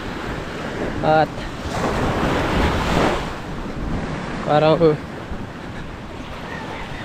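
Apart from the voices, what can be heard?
sea waves and wind at the beach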